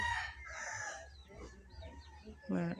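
A rooster crows and clucks nearby, a short harmonic call and clucking near the end following a few soft bird sounds, with faint background voices.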